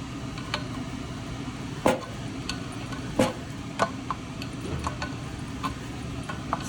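An adjustable wrench tightening a bolt: a sparse series of sharp metallic clicks and taps, a few louder ones, sounding close over a faint steady background hum, with no talking.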